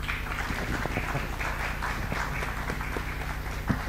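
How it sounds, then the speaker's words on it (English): Audience applause for panelists at a business founders' forum, a steady wash of clapping over a low hum, with scattered individual claps popping out and a slight rise near the end. "If you could please give a round of applause for the panelists"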